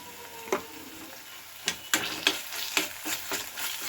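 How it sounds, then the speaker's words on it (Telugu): Ginger garlic paste with onions sizzles and fries in a pan, a steady close crackle broken by several sharp stirring scrapes spaced through the few seconds, with no talk. "ఇప్పుడు ఈ అల్లం పేస్ట్ కూడా పచ్చివాసన పోయే వరకు వేపుకుందాము"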